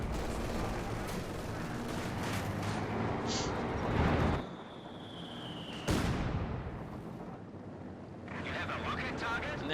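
Katyusha rocket artillery barrage in the World War II strategy game Company of Heroes 2: rumbling volleys of blasts and crackling impacts surge in waves over a steady battle din, with a commentator talking throughout.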